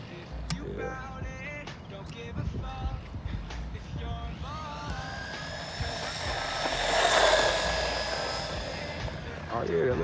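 Axguter 1:14 brushless RC truck speeding by, its high whining electric motor rising in pitch and swelling louder as it runs flat out; people talk over it.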